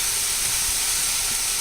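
Unsalted butter, about three tablespoons, melting in a hot pan for a yellow squash casserole, giving a steady, even hiss and sizzle throughout with no talking.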